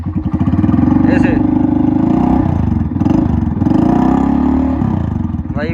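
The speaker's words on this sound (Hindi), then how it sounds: "थोड़ी सी धीरे धीरे रेस देना भाई बाइक की" A Yamaha RX 100 motorcycle fitted with an aftermarket silencer revs up close and loud, its engine thumping and rising in repeated pulls, with someone speaking over the noise.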